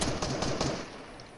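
Video game gunfire, a quick burst of several sharp shots in rapid succession, fairly faint and fading out over about a second.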